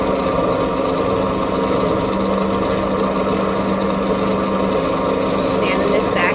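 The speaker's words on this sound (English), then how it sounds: "I'm going to go ahead and sand it on a Dremel bit that I put into the drill press." A drill press fitted with a Dremel sanding bit hums steadily while shaping a tiny dollhouse hair brush, a constant close whir with a rough grinding texture throughout.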